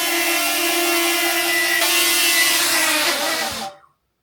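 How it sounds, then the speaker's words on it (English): A DJI Flip drone hovers close by, its propellers whirring in a loud, steady high-pitched whine with a strong buzzing tone that holds for over three seconds, then cuts off abruptly. "raise the drone up a little bit"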